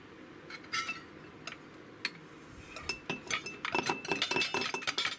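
A metal measuring spoon clinks lightly against glass and dishware while two tablespoons of dried morel mushroom powder are scooped for an umami paste; scattered soft taps build into a busier run of close, bright clinks near the end.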